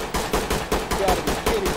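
Rapid gunfire in the tactical shooter Ready or Not, about eight sharp shots in a quick regular burst, loud and close, with a voice faintly underneath.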